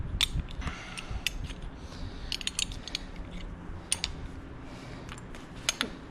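Metal jam nuts are loosened with a 1/2-inch wrench and spun off during a fairing install on a 2020 Harley-Davidson Low Rider S, giving scattered close clicks and ratcheting taps over a low background rumble.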